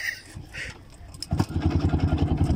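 A cheap, used Voskhod motorcycle's engine sputters toward starting after some handling noises, giving a second of rough, uneven rhythmic firing pulses close by.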